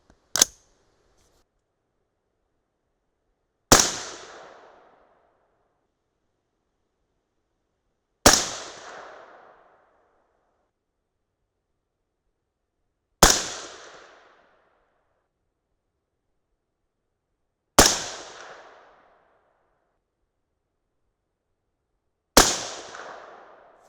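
Six loud, sharp .223 Remington rifle shots firing 62gr Speer Gold Dot handloads, spaced about four to five seconds apart, each a crisp crack followed by a short decaying echo, with silence between.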